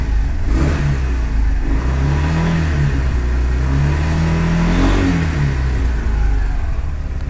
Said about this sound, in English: All I can hear is just the exhaust, and it revs up a lot faster than before.